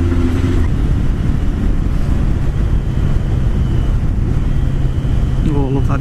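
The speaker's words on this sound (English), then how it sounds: "Oh, love that downshift." A Mercedes engine heard through a helmet mic while riding, rumbling steadily under heavy wind noise with a downshift near the end; no talk is heard.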